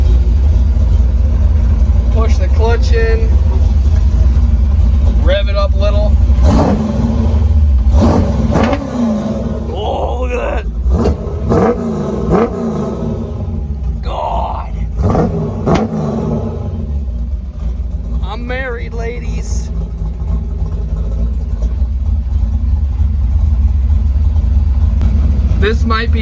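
A 1966 Ford Mustang with a rowdy V8 and four-speed idles with a deep rumble, then gets several loud, close throttle blips and revs, while people talk over it.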